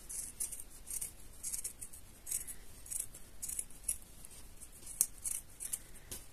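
Scissors snip off excess fabric at the heel of a sock being darned, a quiet series of short, crisp close cuts in irregular rhythm.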